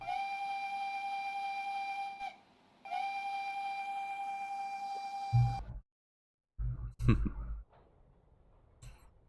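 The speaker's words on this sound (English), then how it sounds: "Press the spacebar, click the lever shown in the picture to sound the whistle." A locomotive whistle sounded by lever in Train Simulator Classic gives two long, steady, piercing blasts with a brief gap between them, followed by a few heavy mechanical clunks and thuds.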